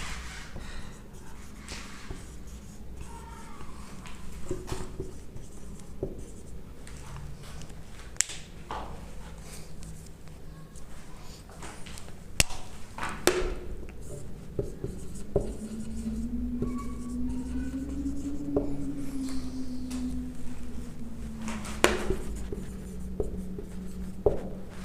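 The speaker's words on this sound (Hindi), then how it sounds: "मैं 2 तरफ से लिख रहा हूं" Marker or chalk writing on a board during a geography lesson on the Indus, Jhelum and Chenab rivers, with continuous scratchy strokes, taps and squeaks over about twenty-five seconds and no talking.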